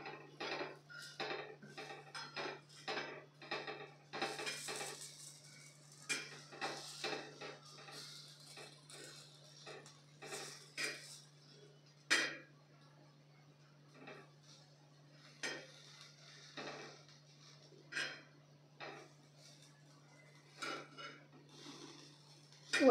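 Alu vadi pieces are turned over in a frying pan, sounding as irregular clinks and scrapes of a utensil against the pan over a steady low hum, with quiet gaps between the knocks.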